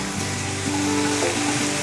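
Chinese sausage tipped into a pan of frying pork, giving a loud, continuous hiss and sizzle close by, with faint clatter of stirring and no talk.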